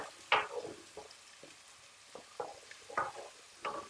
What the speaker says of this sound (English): And so we begin with the onions first. Soften them